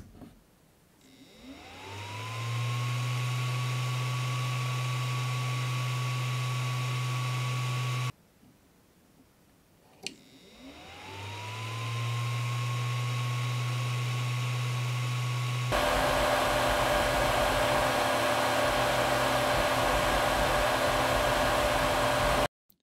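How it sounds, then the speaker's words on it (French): Cooling fans on a Creality Ender 3 V2 3D printer spin up twice to a loud, steady whirring drone with a rising whine, then shift to a harsher, brighter roar, close and continuous. "s'attaquer aux ventilateurs qui sont particulièrement bruyants"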